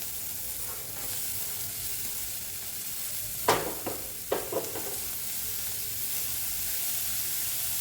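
Chopped banana stem is added to a hot pan for burger patties. A steady background sizzle breaks into several sharp, loud hissing bursts in quick succession as the pieces hit the oil, then settles back into a softer frying crackle.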